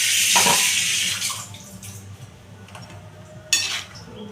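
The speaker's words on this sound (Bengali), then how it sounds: "আর একটু সামান্য জল দিচ্ছি।" A little water is poured into a pan of milk for Bengali aloo potol curry, a close splashing pour that tapers off, followed by a few faint clinks and a brief splash.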